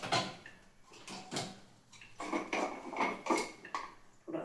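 A cooking pot holding moong beans is handled in a home kitchen, giving a series of close metallic knocks and scrapes in irregular bursts, with no talking.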